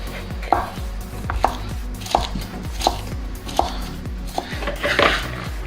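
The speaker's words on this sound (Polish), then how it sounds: "Paprykę pokroimy sobie w kostkę, ale włożymy już ją do osobnej miski." Evenly spaced knife strokes dice a bell pepper on a cutting board, about one firm chop every second, close and clear with no talking.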